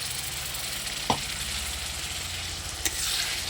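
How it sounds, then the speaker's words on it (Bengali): Ginger-garlic-onion paste and ground dried red chilli fry with softened onions in a pan for mutton curry, a steady close sizzle with a couple of brief stirring clinks. "কাঁচা পেঁয়াজ ভাজার সাথে আমি এটা ভেজে নেব, খুব ভালো করে এটা ভেজে নেব।"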